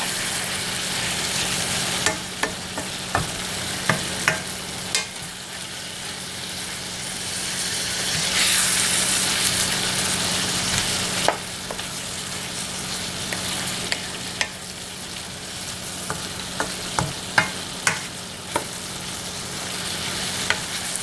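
Vegetables fry in a hot pan with a steady, loud sizzle, while a utensil scrapes and taps against the pan at irregular intervals as it stirs them.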